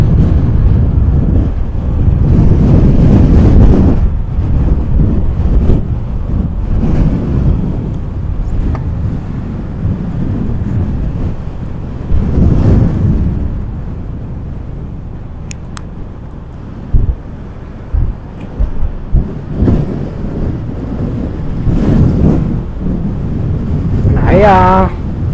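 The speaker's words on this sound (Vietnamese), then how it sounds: "Gió nó thổi mạnh quá" Strong wind on a coastal mountain pass road in Ninh Thuan, Vietnam, buffeting the microphone in heavy, uneven gusts that come and go, with a passing vehicle and someone talking over it.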